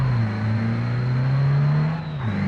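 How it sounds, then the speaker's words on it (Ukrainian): A delivery van's engine revs and accelerates with a rising, steady tonal drone, loud and close, dipping briefly near the end as it shifts before climbing again, without speech. "Газуй, газуй, газуй, газуй."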